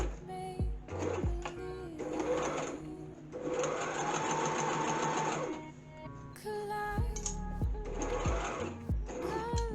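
Sewing machine running a straight stitch with short back-stitch reversals while making a single welt pocket, heard as steady mechanical whirring bursts separated by brief pauses and clunks, close and fairly loud with no talking.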